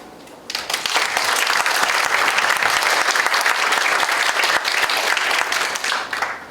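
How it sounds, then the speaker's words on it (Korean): A lecture audience at a special talk by the chairman of the World Federation of Overseas Korean Traders breaks into a practice round of applause. The clapping is loud and dense, bursts in suddenly, holds for about six seconds and then tapers off. "우리 박수 연습 한번 할까요?"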